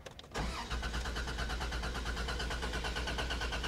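An older car's engine cranking steadily on the starter, a fast rhythmic churning that runs for about three seconds without catching, close and loud with no talk.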